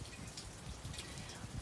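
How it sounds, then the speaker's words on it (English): Steady rain falls on a dreary day, a continuous soft patter of drops on a surface with no distinct rhythm, moderately quiet and unbroken by voices. "since it is a dreary, rainy day"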